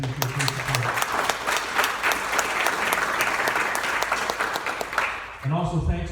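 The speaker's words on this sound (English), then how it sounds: "Well, a round of applause for all those sponsors." Audience applause at a memorial award ceremony, a dense steady clatter of many hands for about five seconds before it thins and a voice starts speaking at the end.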